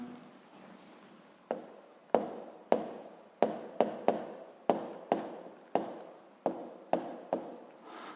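A pen or chalk writes by hand during a physics lesson, giving a series of about a dozen sharp taps and short scratches in an irregular rhythm, close and clear in a quiet room.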